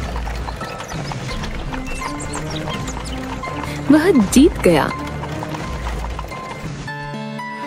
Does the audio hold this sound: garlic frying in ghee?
no